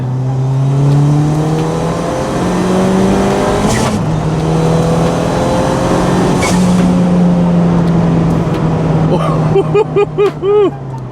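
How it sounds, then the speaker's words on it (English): A tuned Ford Fiesta ST with a small four-cylinder engine pulls hard in third gear from 50, its engine note rising steadily and loud from inside the car, then ending in sharp revs and pops. "third gear roll from 50"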